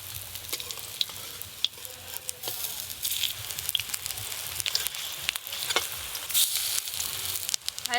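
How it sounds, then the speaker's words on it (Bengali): Pumpkin flower fritters frying in mustard oil give off a steady, close sizzle with crackling pops throughout, with no talking over it. "বড়াগুলো এবার একবার করে উল্টে দেব"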